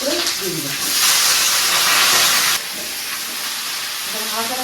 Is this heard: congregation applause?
no